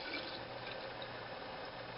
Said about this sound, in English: I'm going to pour some of that into here.